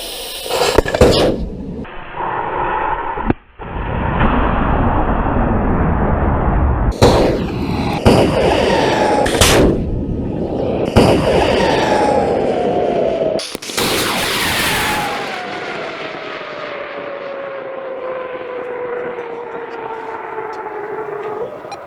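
A rocket lifts off at the end of a terminal countdown, heard from a distance outdoors: sharp bangs and bursts give way to a sustained broadband roar that slowly fades with a descending whine as it climbs away.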